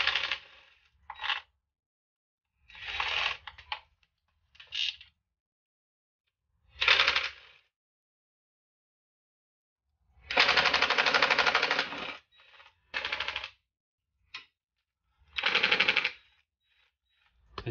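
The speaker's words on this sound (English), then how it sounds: "I'm gonna undo all the bolts and start undoing them" Bolts being undone on the plastic oil sump of an Audi S1 Quattro, heard as several separate bursts of rapid ratcheting and metallic rattling with short silent gaps between them, close and fairly loud.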